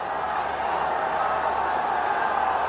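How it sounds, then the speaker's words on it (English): Steady roar of a packed cricket stadium crowd during a Lahore Qalandars versus Multan Sultans PSL match, a dense, even wash of cheering and noise without breaks. "Crowd now into this. There's plenty of noise out there, plenty of tension."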